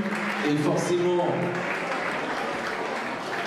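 Audience applause at a Miss Saône-et-Loire 2014 beauty pageant, a steady broadband patter of clapping held for a few seconds with a presenter's voice briefly audible over it.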